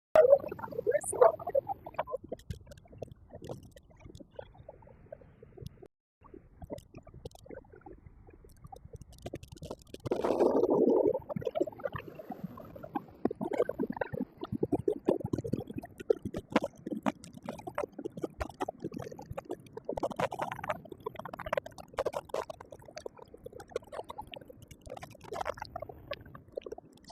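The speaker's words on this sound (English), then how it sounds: "the wind is getting really crazy now" Strong hurricane wind at Hellshire Beach, Jamaica, during Hurricane Melissa, buffets the microphone in rough, uneven gusts and rumbling surges, with a heavier blast partway through and constant turbulent noise.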